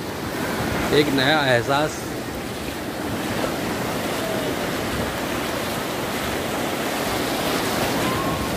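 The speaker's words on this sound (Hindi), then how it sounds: "और लहरें हमेशा तैयार रहती है भिगोने के लिए, ये देखिए हर एक मिनट के बाद आ जा रही है।" Ocean waves break on a beach in Goa, a continuous loud surf wash with wind noise, while a person speaks briefly near the start.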